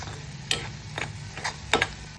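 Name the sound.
stirring masala and spices into a cooking pot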